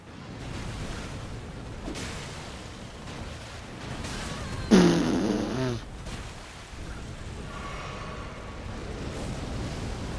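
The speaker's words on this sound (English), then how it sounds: "Oh my, explosion from that!" Explosion from the Magma Wyvern boss fight in Elden Ring, a single loud burst about midway that rings on briefly before fading back into a steady low game rumble.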